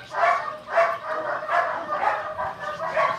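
A small dog barks repeatedly in short, evenly spaced yips and bow-wows, about six barks over a few seconds, close and moderately loud with faint whimpering tones.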